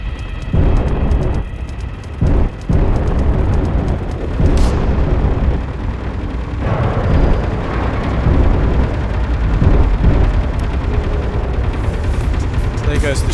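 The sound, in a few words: enemy ship firing weapons and explosions in Space Engineers video game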